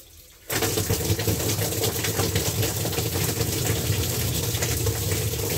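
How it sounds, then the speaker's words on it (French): A toilet flush sends water rushing through a cellar drain line of 125 mm cast iron pipe. It starts abruptly after a brief quiet moment, then keeps up a loud, steady gush and rumble. "Le chasse d'eau il arrive."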